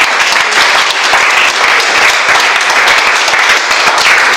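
A church congregation applauds steadily throughout, a dense, loud wash of many hands clapping at once with no pauses and no distinct voices.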